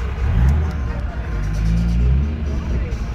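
Dodge Viper engine droning steadily from inside the car during relaxed laps, a deep low rumble swelling and easing, with some background voices.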